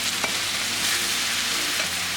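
Spice powders are stirred into a sizzling, sautéing base for an egg potato curry, a steady frying hiss with soft scraping strokes of the spoon, close and continuous.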